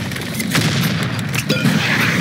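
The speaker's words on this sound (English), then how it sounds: "Fire in the hole. Grenade." Grenade explosion in a first-person shooter video game, a loud booming blast amid continuous gunfire and crackling battle noise, with no clear separate voices.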